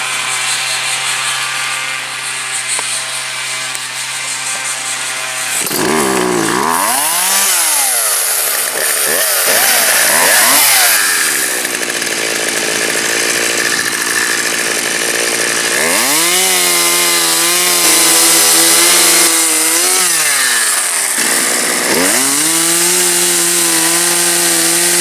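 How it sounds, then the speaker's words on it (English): A chainsaw revs and bogs repeatedly as it cuts into stumps during yard clearing, loud and close, with rising and falling engine pitch and no talk. "So I'm gonna fire up the chainsaw,"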